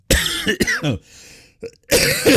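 Several loud, harsh coughs close to the mic in quick succession, with a brief quiet gap before a final forceful cough.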